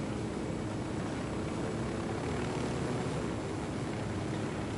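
Steady broadband engine and rotor drone of a helicopter flying in a video game, continuous and fairly loud throughout with no talking.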